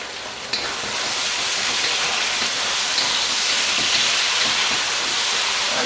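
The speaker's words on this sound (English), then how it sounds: "and then we'll cook the vegetables" Vegetables cooking in oil in a wok for sweet and sour chicken pad priew wan, a loud, close, steady frying hiss that rises after a brief clatter and holds on without talking.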